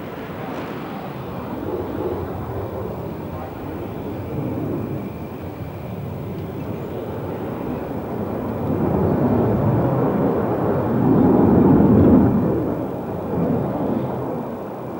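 A Yak jet aircraft hovering on the swivelling tailpipe of its main engine at an air show, a deep continuous roar that swells louder toward the end, heard from a distance.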